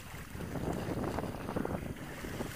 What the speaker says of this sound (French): Là c'est embêtant le vent de sud-ouest, malgré que ce soit pas fort.